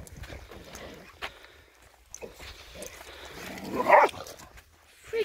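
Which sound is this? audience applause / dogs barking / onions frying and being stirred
dogs barking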